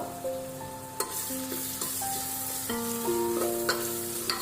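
Biryani masala stirred into vegetables in a pot, with steady sizzling and repeated spoon scrapes and knocks against the metal, close by, while sustained tonal hums run underneath.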